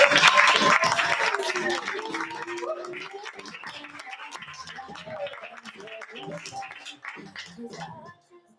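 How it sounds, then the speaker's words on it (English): Applause at an open mic and faculty night, loud at first with cheering voices, then thinning into scattered individual claps that continue while people talk and move around in the room. "Clap till Jason gets to the microphone"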